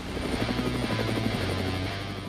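Steady, close thrum of a Sikorsky MH-60R Romeo military helicopter, its rotor beating in a constant pulse under a droning engine whine, with no voices over it.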